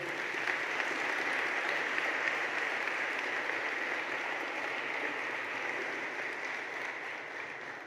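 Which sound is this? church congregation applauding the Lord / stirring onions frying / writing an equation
church congregation applauding the Lord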